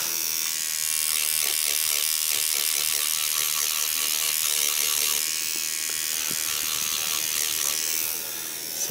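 Tattoo machine fitted with a 9 round shader needle gives a continuous, close, even mechanical buzz with a fine rattling texture, running steadily with no talking.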